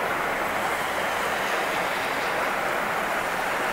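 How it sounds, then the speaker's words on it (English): Heavy rain pours steadily during a thunderstorm in south Mississippi, a dense, unbroken hiss that stays loud and even throughout, with no thunder standing out. "Just a whole lot of rain."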